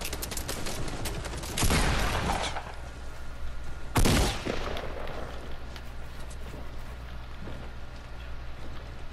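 Gunfire in a Fortnite Battle Royale match: two loud bursts of shots stand out over a continuous background of game noise, with no talking during the firing.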